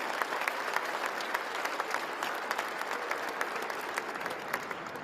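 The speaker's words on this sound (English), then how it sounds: "let's give that a round of applause." Audience applause at a Canadian government announcement in Mississauga about a Bombardier aircraft contract, a sustained, even roar of many hands clapping with a few sharper individual claps poking out, heard alone without speech.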